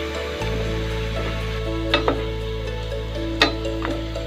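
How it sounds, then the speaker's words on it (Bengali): Sliced onions for birista fry in hot oil with a steady, close sizzle, while a utensil stirs the pan with a few sharp scraping clicks. "পেঁয়াজ বেরেস্তা গুলো আর একটু ভালো করে ভেজে নিতে হবে।"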